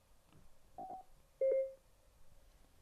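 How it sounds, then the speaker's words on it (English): A few soft button taps on a Cardo Scala Rider Freecom 4 motorcycle intercom, then one clear, loud electronic beep from a phone, followed by quiet. "Tap the intercom and phone buttons together and wait for your phone to beep."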